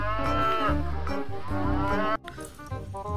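A toy cow gives a loud, sustained electronic moo of about two seconds that cuts off abruptly, followed by a softer, shorter mooing tone.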